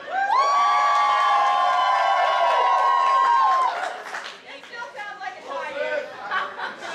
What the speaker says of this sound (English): Crowd response, any kind of noise.